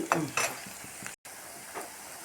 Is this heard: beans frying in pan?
yes